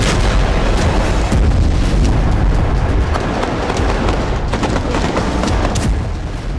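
Heavy explosions and rumbling blasts from Israeli army attacks in Gaza, a loud, continuous barrage of booms and crackling impacts with no speech.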